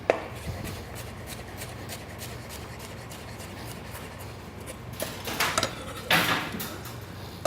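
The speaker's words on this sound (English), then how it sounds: "if you find that it's kind of hard to julienne, separate the leaves out and do them in kind of batches" A knife julienning endive leaves on a cutting board, soft quick slicing and rubbing strokes up close, with a few sharper scraping cuts toward the end.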